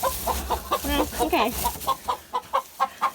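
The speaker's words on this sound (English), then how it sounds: "Oh, there's a chicken in there." A hen in a farm coop gives a rapid series of short, close clucks, the last several evenly spaced, while someone speaks briefly over the first part.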